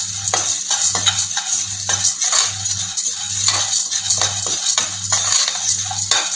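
Lentils dry-roasting in a pan for sambar powder are stirred continuously, a steady close scraping rattle with a pulsing low hum beneath it and no voices.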